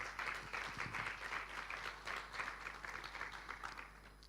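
Congregation applause during a church service, a continuous, fairly faint wash of many hands clapping over a low steady hum, holding through to the end.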